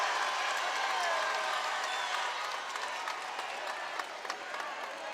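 A big crowd fills a basketball arena at a college game, cheering and applauding in a sustained roar that slowly fades, with a voice talking faintly underneath.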